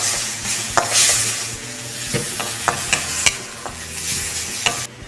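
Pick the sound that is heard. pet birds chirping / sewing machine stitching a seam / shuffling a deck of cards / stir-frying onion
stir-frying onion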